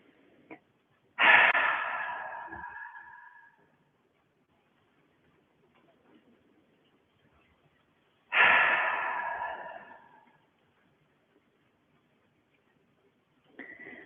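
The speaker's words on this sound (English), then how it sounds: "You can take some deep breaths through your mouth, sighing it out." Two long, deep sighing exhales through the mouth during a group breathwork session, each a broad rushing breath lasting a couple of seconds, separated by quiet pauses, with a third breath starting at the very end.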